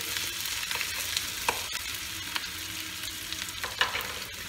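Onions frying in a pan for a chicken curry with raw mango, giving a steady soft sizzle with intermittent scrapes and clicks of stirring, close and moderately quiet, with no voices.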